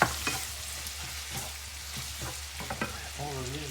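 Broccoli sautés in a pan for crab and lemon pasta, a moderate sizzle broken by several sharp stirring scrapes and clicks, close by, with a faint tonal whine near the end.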